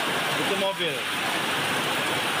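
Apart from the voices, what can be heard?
rain falling with volcanic gravel and ash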